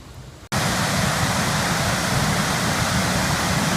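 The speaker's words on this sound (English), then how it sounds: "what used to be a creek is now a gushing waterfall" Rain-swollen creek turned into a gushing waterfall, a loud, steady broadband roar that bursts in abruptly after half a second of quieter ambience and holds constant throughout, close and with no voices.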